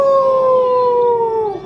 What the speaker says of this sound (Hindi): फिर कुत्ते भौंके